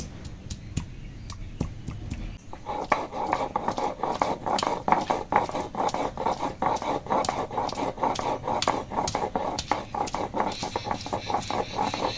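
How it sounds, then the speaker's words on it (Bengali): Ginger and garlic are pounded with a repeated close, hard knocking, steady rhythmic thuds of a crushing stone or pestle continuing for several seconds with faint scraping between strikes. "আদা রসুন এখন ভেটে নেবো আগে একটু থেঁতো করে নিয়ে"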